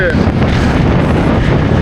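Cyclone wind roars in a steady, loud gusting rush with heavy buffeting against the microphone during rain, filling the short stretch with broadband noise.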